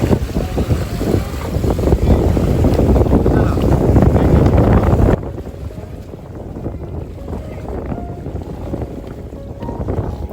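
Boat motoring at sea off Lakshadweep, with wind buffeting the microphone in a loud, dense roar of engine and rushing air, which drops to a quieter hum with water noise partway through.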